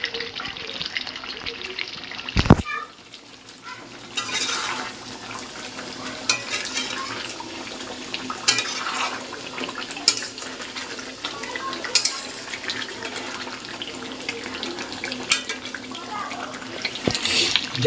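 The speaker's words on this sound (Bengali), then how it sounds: "টকবকিয়ে মাংস ফুটছে আর মাংসের গ্রেভিটা দেখো।" Meat curry simmering in a pot, with a steady, dense bubbling and sizzling that runs through the whole stretch. It is fairly close, with a few sharper knocks along the way.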